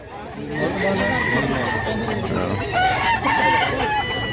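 A rooster crows loudly nearby at a crowded chicken market in Mantalongon, Barili, Cebu, as hens cluck and people talk in the background.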